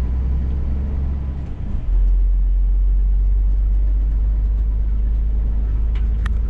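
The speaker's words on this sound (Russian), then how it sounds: "пока так вот с краешку едем, ямки собираем" A car rolls slowly along a potholed road between Gyumri and Yerevan, with a loud, steady low engine and tyre rumble inside the cabin, a shift in tone early on and faint knocks over the bumps.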